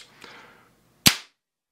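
A single sharp shot from a Kolser Colt Single Action Army replica revolver fired indoors in a closed room, loud and close, after a quieter rustle of handling.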